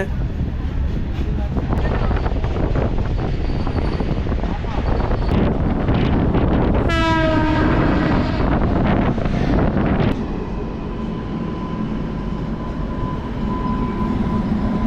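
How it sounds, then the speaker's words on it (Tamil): A Chennai MEMU suburban train rumbles loudly departing Perambur station, wind buffeting the microphone, a rising electric whine sweeping upward midway as it pulls away and gathers speed. "இப்போது பெரம்பூர்லேருந்தும் ட்ரெயின் ஸ்டார்ட் ஆகிடுச்சிங்க"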